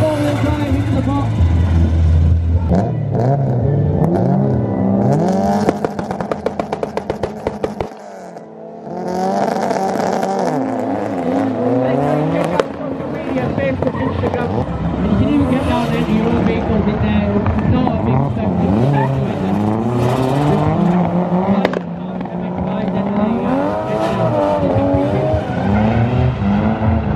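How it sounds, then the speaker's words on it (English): A four-wheel-drive gymkhana car on a European Gymkhana Championship course roars with a loud, continuous engine and tire squeal, revs rising and falling as it launches, with a voice talking over it. "I've got my launch for the four-wheel drive into the box."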